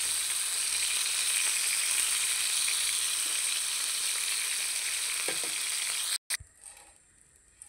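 Chicken bhuna fries and sizzles loudly and steadily in a pan for about six seconds before stopping abruptly, followed by quieter clinks and stirring.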